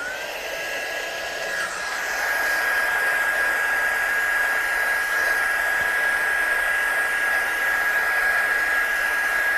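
A heat tool blows continuously while drying ink on a handmade card, a loud, steady whooshing hum with a high whine, starting softer and rising to full airflow, with no voices.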